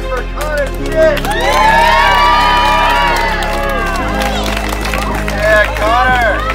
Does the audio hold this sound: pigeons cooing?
no